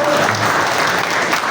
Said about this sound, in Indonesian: Yang buat tepuk tangan yang muda itu ya.